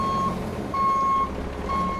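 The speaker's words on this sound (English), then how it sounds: "Dump trucks are sticking to a schedule" Dump truck backing up on a beach erosion repair site after Hurricane Ian, its reverse alarm sounding three steady beeps over a low engine rumble nearby.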